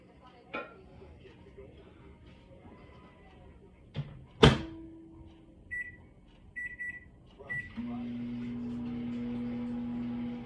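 A microwave oven heating a bowl of oatmeal: the door thuds shut, a few keypad beeps sound, then a steady low hum starts and runs on, with soft handling noises before it.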